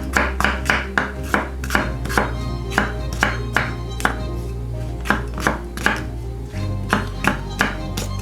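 A knife cuts produce on a chopping board in a quick, even run of sharp thuds, roughly two or three per second, close and clear, with a low steady hum underneath and no voices.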